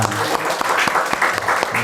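A church congregation breaks into brief, full applause during a Sunday service, the clapping close and steady throughout with a faint voice beneath it.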